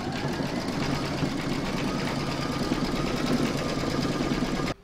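An embroidery sewing machine stitches pink applique inside a hedgehog's ears, a fast steady mechanical whirring and rattle close by that stops abruptly at the end.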